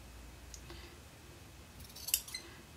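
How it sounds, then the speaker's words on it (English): Scissors trimming the fabric corners of a sewn baby bib, a few quiet snips at first and then a quick louder cluster of crisp cuts near the end, close and isolated. "So we're going to trim here, and we're also going to trim"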